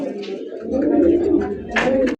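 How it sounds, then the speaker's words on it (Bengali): A large chocolate-coloured Mukhi pigeon gives a loud, close, rolling coo that swells and holds for a couple of seconds, then breaks off abruptly. "চকলেট কালার অস্থির একজন মুখী কবুতর"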